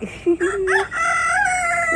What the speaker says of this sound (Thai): มีไก่ด้วยนะ เพื่อนๆมีไก่ด้วย ไก่เขาขันเอกเอก